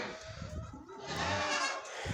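A goat on a farm bleats close by, a wavering nasal cry that rises and falls over about two seconds amid outdoor background noise.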